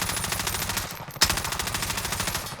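Rapid automatic gunfire from a video game weapon, a steady stream of close, loud shots with one sharper crack partway through, no talking.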